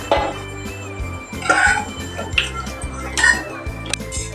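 Metal utensils clank and scrape against pots in several separate bursts as cooked red pumpkin is moved to another pot, with a spoon scooping and knocking near the microphone.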